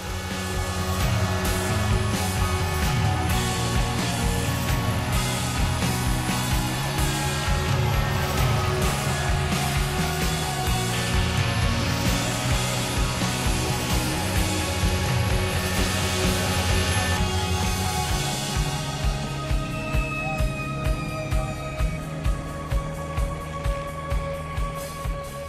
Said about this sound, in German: flog RC-Pilot Peter Illmeier souverän sein Großmodell des ÖAMTC-Hubschraubers.